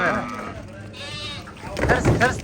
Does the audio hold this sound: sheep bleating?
yes